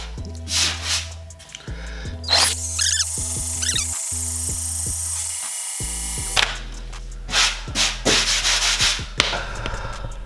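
Harsh, close sanding noise from a sanding attachment on a drill moved up and down, starting and stopping in bursts with a low motor hum underneath.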